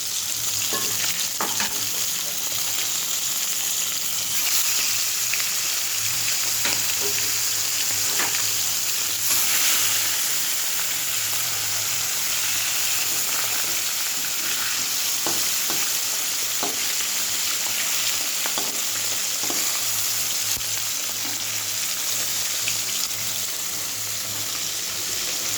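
Fresh whole fish lightly frying in a pan, a close, continuous sizzle with scattered pops and crackles and occasional scraping of a spatula, holding steady and loud throughout with no talking.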